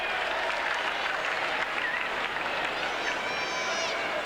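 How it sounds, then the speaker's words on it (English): Stadium crowd cheers and applauds at a 1991 Australian football match between Adelaide and Fitzroy, a broad, sustained roar with clapping under it, steady and distant, with shouts rising toward the end. "Listen to the crowd."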